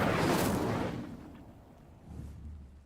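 A fire spell cast in a wizarding video game bursts out loud with a roaring, explosive whoosh that fades over about a second, followed by a quieter low rumble near the end.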